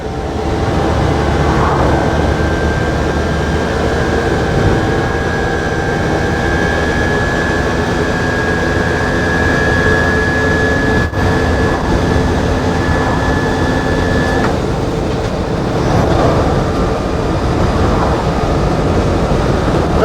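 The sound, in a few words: electric vehicle motor running while driving uphill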